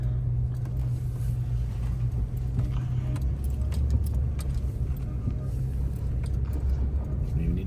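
A vehicle engine runs steadily with a deep, continuous low rumble, close by and unchanging, with faint scattered clatter on top.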